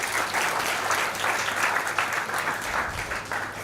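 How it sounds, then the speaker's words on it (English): A crowd gives a big, sustained round of applause at a live event, dense and loud clapping from many hands filling the room evenly throughout, with no talk over it. "Give him a big round of applause."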